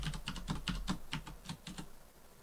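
Keys on a computer keyboard are tapped in a quick, irregular burst of about a dozen close, quiet clicks while a password is entered, then the typing trails off.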